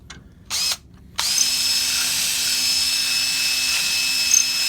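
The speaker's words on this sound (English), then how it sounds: "I can basically go in here and kind of like use the drill bit" A power drill boring into metal whirs steadily at high speed after two brief short bursts, a continuous loud grinding whine close by with no voices.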